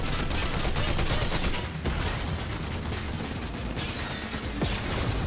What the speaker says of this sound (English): Getting shot at from somewhere.